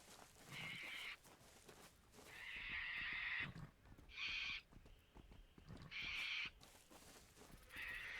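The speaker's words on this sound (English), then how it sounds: "There's a lot of birds in Australia that just sound like someone's like getting real mad and screaming at you" Australian birds give loud, harsh, screaming calls that sound angry, in repeated bursts of about a second each, spaced through the stretch over rough outdoor background noise.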